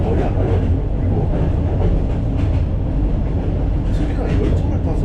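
A Vietnamese overnight sleeper train on the Hanoi to Lao Cai line rumbles steadily, with a dense, constant low roar and faint rattling heard from inside the cabin, with no pauses.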